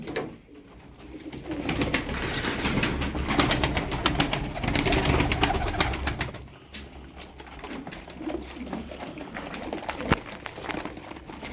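Pigeons cooing in a coop, overlapping soft rolling coos close by, with wing flutters and scuffling throughout.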